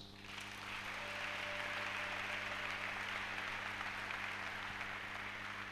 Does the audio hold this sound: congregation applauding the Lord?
yes